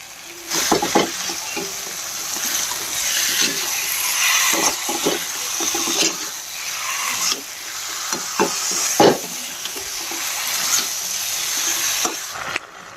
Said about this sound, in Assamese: এইফালে আমাৰ গাহৰি মাংস দিবলৈ হৈ গৈছে এয়া মাংসখিনি দি দিলোঁ ধুনীয়াকৈ